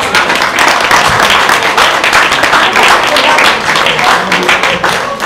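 Audience at a humanitarian event for people with disabilities applauds Branko Jokić, a dense, loud, continuous round of clapping that holds steady throughout.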